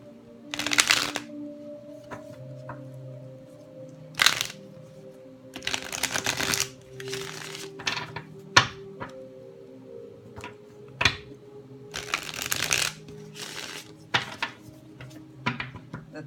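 Playing cards shuffled in several bursts, about three distinct riffle shuffles with crisp rapid fluttering, heard near and clear with brief taps and handling between them, during a tarot-style card reading.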